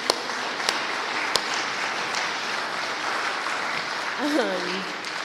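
Steady applause from a roundup crowd fills the room at even loudness, with a few sharper close claps early on and a brief voice rising near the end.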